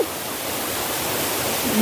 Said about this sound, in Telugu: ఏడు బావుల జలపాతం ఇది చూసిరు ఎట్లా దూకునే వాటర్